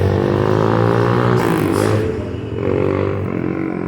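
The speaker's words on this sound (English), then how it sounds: "Tricycles, waiting for customers." Motorcycle tricycle engines rumble loudly close by on a Philippine street, with one revving up and then easing off as the sound settles back to a steady drone.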